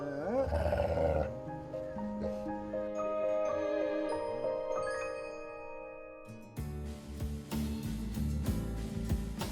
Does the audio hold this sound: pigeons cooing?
no